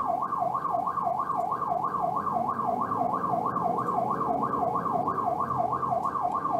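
A private ambulance siren wails in fast, even up-and-down sweeps, loud and continuous throughout, with a low road-traffic rumble underneath and no talking.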